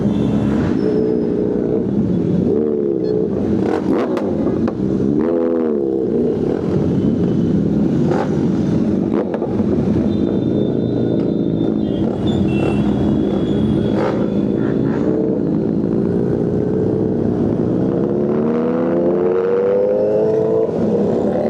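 A group of superbikes roars on an Independence Day freedom ride in India, engines revving and rising in pitch in repeated sweeps, loud and continuous throughout with no talking.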